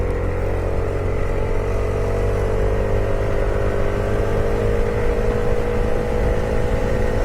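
A Kymco 300i scooter drones steadily while riding, its engine humming loud and close with a constant whir and rush of wind, with no talk.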